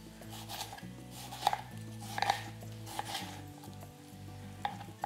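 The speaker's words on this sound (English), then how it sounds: "I'm going to chop them up into quarters" A knife chops seedless persimmons into quarters on a cutting board, a few crisp close taps over a low steady background hum.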